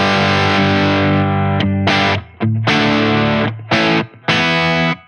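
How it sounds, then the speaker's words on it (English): Electric guitar with a crunch tone from blended neck and bridge pickups, played through a ToneX amp model: several loud, distorted chords ring out and are cut short by brief pauses. "Now it brings in the neck pickup, and I quite like that sometimes if I'm playing on a crunch tone."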